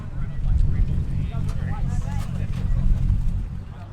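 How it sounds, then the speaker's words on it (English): A tuned Nissan Skyline with an RB26 engine, billet parts and a big BorgWarner turbo idles aggressively on the street, a deep, lumpy low rumble that pulses steadily under background chatter. "This car sounds so aggressive."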